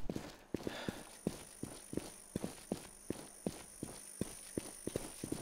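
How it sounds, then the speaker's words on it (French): Footsteps in the survival video game The War Z, a steady run of crisp thuds at an even walking pace, fairly near and clear over a faint background hum. "J'entends des bruits de pas."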